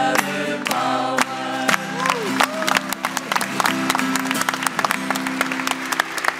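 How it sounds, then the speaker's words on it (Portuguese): A crowd claps steadily in a lively burst of applause that continues throughout, with a bit of cheering mixed in. "uma salva de palmas"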